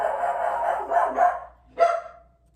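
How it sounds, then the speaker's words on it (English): A dog barks at someone in the road, a quick cluster of three sharp barks followed after a short pause by one more, close and fairly loud with quiet between. "Somebody's in the road and she's barking."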